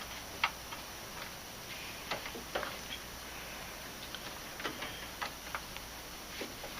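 Scattered small clicks and ticks of a new control lead's plugs seating into a Hobart 140 welder's sockets, irregular and faint, with quiet handling noise between.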